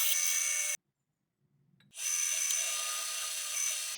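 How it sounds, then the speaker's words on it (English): A high-pitched power drill whines steadily drilling steel during a 200cc mini-bike build, cuts out for about a second, then spins back up and runs continuously. "you've just seen me drill a little bit of steel"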